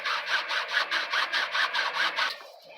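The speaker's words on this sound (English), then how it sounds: "Fuck this hacksaw shit. I got a dull blade on there." A dull hacksaw blade cuts during a DIY intake build on a D21 Hardbody truck, giving about a dozen steady back-and-forth rasping strokes close up, evenly paced, then stopping.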